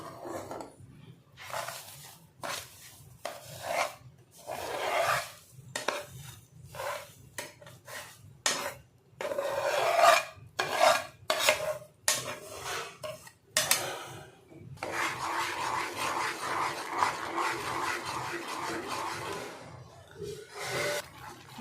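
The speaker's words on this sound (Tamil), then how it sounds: "இப்படி கை விடாமல் கிளறிட்டே இருந்தோமா மைசூர் பாக்கு பதம் வந்துடும்." A Mysore pak mixture of ghee and semolina is stirred steadily in a pan, with repeated close scraping strokes in an even rhythm that later blurs into continuous rasping.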